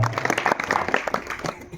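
A religious gathering's audience claps for a kirtan speaker, a short burst of mixed clapping heard over a voice speaking through it.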